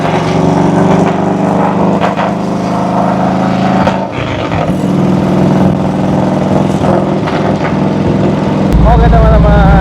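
A 1982 Harley-Davidson Tour Glide motorcycle on a test ride rumbles loudly up close and revs through the low gears, its engine note climbing and dropping with brief dips at each shift.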